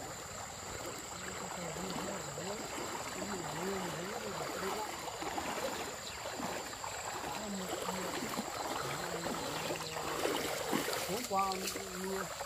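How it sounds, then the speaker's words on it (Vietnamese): A strong mountain stream rushes in a steady, dense wash of water, loud and continuous throughout, with faint voices and a brief tonal sound near the end. "Suối này nước mạnh quá."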